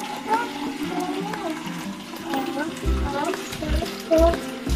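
Warm water is poured and splashes with a gurgling, running sound during a toy unboxing, while voices talk intermittently over it.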